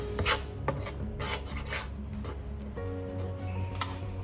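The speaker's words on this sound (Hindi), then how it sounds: "लगातार चलाते हुए हम इसको भूनते रहेंगे" A spoon scraping and stirring gram flour (besan) as it dry roasts in a pan, with repeated rasping strokes and small ticking knocks against the pan in a steady rhythm.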